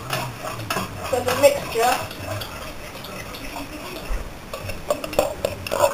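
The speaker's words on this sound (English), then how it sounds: "you need to get a normal fork to whisk up the eggs." Eggs being whisked with an ordinary fork in a bowl while making an omelette, giving rapid, close clinking and scraping strokes with some faint background noise and a brief spoken word.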